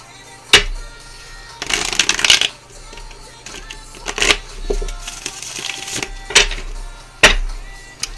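Tarot cards being shuffled and handled in a quiet room, with repeated riffling bursts and sharp card snaps spaced irregularly, close and fairly loud, with no talking.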